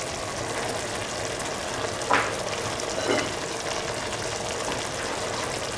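Cauliflower and potato frying in a pan, a steady broadband sizzle with two brief louder spits from stirring, close and continuous with no voices.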